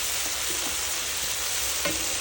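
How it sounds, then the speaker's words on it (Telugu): Vegetable manchurian sizzling steadily in a hot pan with onion, stirred with a spoon that scrapes now and then, including one sharper clink near the end; close and continuous with no talking. "బాగా వేగాక మంచిగా ఫ్రై అవ్వాలి."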